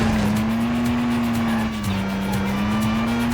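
A car pulls a handbrake turn in the PS2 game Stuntman, its engine droning loud and steady up close with a brief tire squeal as it slides through.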